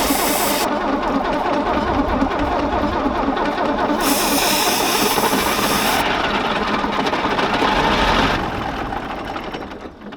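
A Tatra truck diesel engine, short of diesel fuel, in a build combining junked Tatra trucks and wrecked Teslas, cranks over without catching, a loud continuous churning with shifting bursts of hiss that fades toward the end; no one talks.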